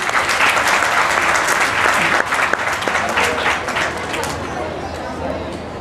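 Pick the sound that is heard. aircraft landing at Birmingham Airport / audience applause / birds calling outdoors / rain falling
audience applause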